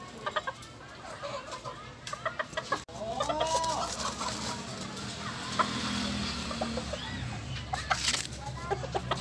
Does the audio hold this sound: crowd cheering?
no